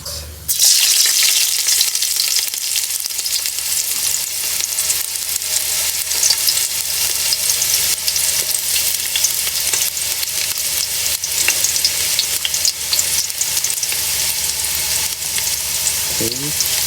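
Onions sizzle and fry steadily in hot oil for pinakbet, a loud, continuous crackling hiss that holds without break from the first second to the end, with no voices over it.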